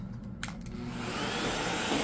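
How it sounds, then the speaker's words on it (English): A vacuum cleaner runs over carpet. After a brief bump near the start, its motor holds a steady, loud whooshing drone up close, and nobody speaks. "If you want to do a good vacuuming and help your carpet stay cleaner longer, vacuum just like this."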